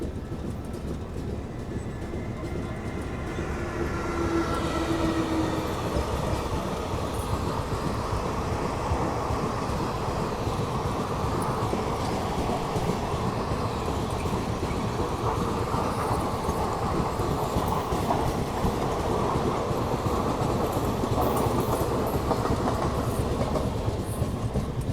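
Another train passes on a parallel track beside a moving train, a steady loud rumble with rhythmic clickety-clack over the whole stretch, heard from on board without talk.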